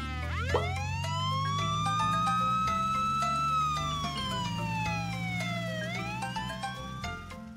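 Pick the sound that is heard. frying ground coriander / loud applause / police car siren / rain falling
police car siren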